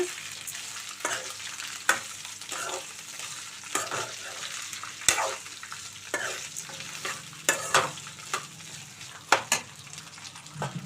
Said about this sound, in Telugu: పొడవుగా కట్ చేసి పెట్టుకున్న దొండకాయ ముక్కలను అయితే వేసుకోవాలండి తాలింపు వేగింది కదా